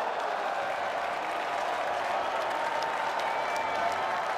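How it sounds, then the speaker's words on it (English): A wrestling arena crowd at a lucha libre match applauds in a dense, continuous roar of clapping that holds steady and loud throughout. "Listen to the crowd."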